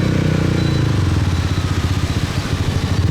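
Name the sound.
motorcycle with loud exhaust riding through traffic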